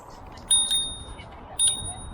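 Bell on an electric bike ringing twice during a ride, two bright ringing dings about a second apart, each with a short decaying tail over low road and wind rumble.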